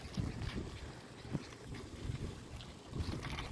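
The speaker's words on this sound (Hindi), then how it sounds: "फिर से ठंडी हवा चलने लग गई है।" Wind gusts buffet the microphone in uneven rumbling waves, with faint rustling of trees and no voices, on a cool rainy day in Riyadh.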